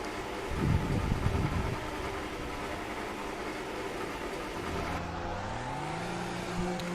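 Formula One race car engine in the F1 2018 video game, a high revving whine that climbs through gear shifts with a steady rising tone, heard alone without talk.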